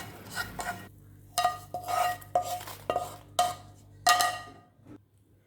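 Dry-roasted ingredients for idli milagai podi are scraped from a metal pan onto a plate, giving a close series of irregular metallic scrapes and clinks with short pauses and no talking.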